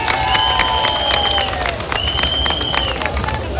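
An audience at a Guinean ceremony applauds in a loud, steady stretch of clapping. A sustained electronic tone rises above the crowd noise.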